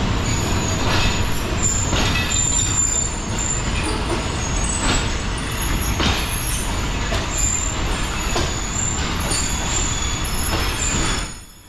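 A Sri Lankan passenger train pulls into a station, heard from an observation coach, a loud continuous rumble of wheels on rails with faint squealing and rhythmic clanks, easing off at the very end.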